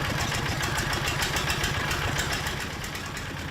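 Engine of a red brick press machine running steadily nearby, a loud continuous mid-pitched drone with rapid regular pulsing, easing slightly toward the end.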